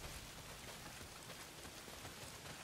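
Heavy rain pours down steadily in the Days Gone game world, a dense, continuous hiss of drops drumming on surfaces, loud and unbroken throughout with no voices.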